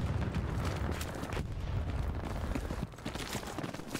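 Gunfire in the WWII shooter Hell Let Loose crackles through a steady, dense wall of battle noise, with irregular shots, sharp cracks and a brief dip near the end. No talk is heard.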